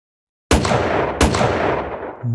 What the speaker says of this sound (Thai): แต่แล้วเสียงปืนปริศนาก็ดังขึ้นสองนัดติดกัน